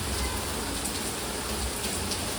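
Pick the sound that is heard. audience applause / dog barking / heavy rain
heavy rain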